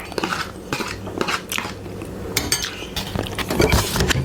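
Spoons and forks clink and scrape against a plate as Indomie mi goreng noodles are mixed with rice. The clatter comes in quick, uneven bursts, close up and with no talk.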